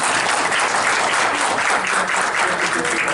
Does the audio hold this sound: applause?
yes